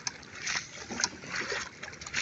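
A motorbike pushed through floodwater from a dam release, with close sloshing and splashing surges and uneven wading rhythm, water churning continuously.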